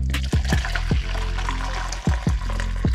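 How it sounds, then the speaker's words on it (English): Boiling hot water pours steadily into a bowl while making Starburst Jell-O shots, a continuous close splashing stream with a few gurgling dips in the flow. "Actually pour my water in here."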